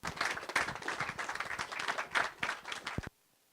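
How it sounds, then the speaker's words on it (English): Applause fills a city council chamber as people clap to honor those who protect children, a steady round of many hands lasting about three seconds before stopping abruptly, fairly quiet and distant. "let's just give applause for those who protect our children"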